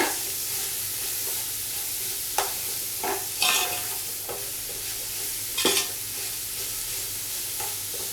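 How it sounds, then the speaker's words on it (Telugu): Carrots sizzle steadily in a hot pan for an Arabic-style majboos, with occasional clinks and scrapes from stirring breaking through the even frying hiss. "క్యారెట్ యాడ్ చేసిన తర్వాత క్యారెట్ అంతా కూడా పచ్చివాసన పోయేంత వరకు ఫ్రై చేసుకోవాలండి"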